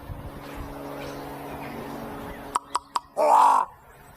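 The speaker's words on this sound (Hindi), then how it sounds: "ये है रेवन. रेवन है ये," Raven calling in a played video, three short sharp knocking croaks followed by one longer harsh call, heard over a low rumbling engine-like background.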